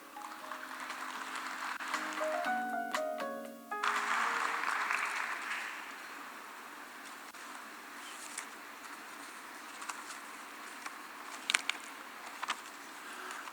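Applause from a forum audience greets Ban Ki-moon at the opening of the 2021 World Knowledge Forum. A musical sting comes first, then broad, steady clapping swells for a few seconds and fades to a quiet room with scattered claps.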